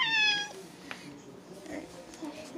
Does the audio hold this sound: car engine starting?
no